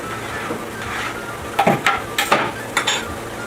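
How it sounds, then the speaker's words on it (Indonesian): Eel curry with spices and green chili being stirred in a pan: a soft sizzle underneath several sharp metallic clanks and scrapes of a utensil against the pan, close and fairly loud. "kemudian kita aduk rata lagi"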